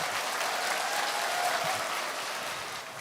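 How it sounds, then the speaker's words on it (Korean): Steady applause from an audience at a business lecture hall, a dense, even wash of clapping that holds throughout and tapers slightly near the end. "예, 박수 감사합니다."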